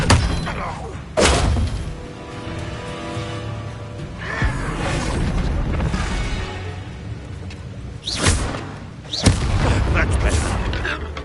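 Bombarda spell blasts in Hogwarts Legacy combat: several dull booming thuds at irregular intervals over a busy bed of game effects and music, with a voice speaking in between.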